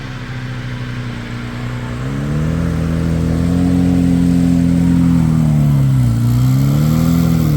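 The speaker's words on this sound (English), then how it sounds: "Two different sounds from two different generations of Chevrolet products." A Chevrolet car engine idles low and then revs up, rising and holding a loud, throaty drone with a dip and recovery near the end. The source sits close, and no voices are heard.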